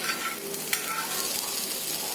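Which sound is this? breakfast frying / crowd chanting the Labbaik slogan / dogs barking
breakfast frying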